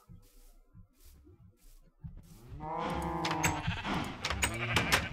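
Sheep bleating in the Minecraft video game, with a couple of wavering, drawn-out bleats that rise loud in the second half after a quieter start with faint ticking sounds.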